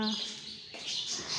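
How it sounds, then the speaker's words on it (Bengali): A neighbour's pet birds chirp and call in short bright bursts from near a home balcony, fairly faint, with a voice speaking softly over part of it. "পাখিগুলো অনেক সুন্দর ডাকে"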